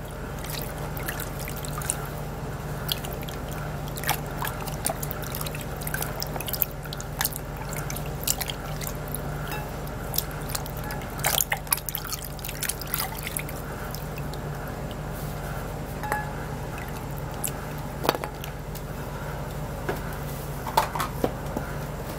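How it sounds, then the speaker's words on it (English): A halved coconut is rinsed with clean water in a kitchen: steady faint drips and small trickles over a low constant hum, with scattered light splashes and no speech. "I'm gonna be washing my coconut with a very clean water."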